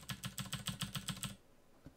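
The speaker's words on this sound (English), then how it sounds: "I'm gonna stop clicking buttons real loud, actually, because that's probably gonna be super annoying" Rapid, loud clicking of buttons on a computer keyboard during a gaming podcast, a burst of about a dozen crisp close taps in quick rhythm, then stopping, with one faint tap afterward.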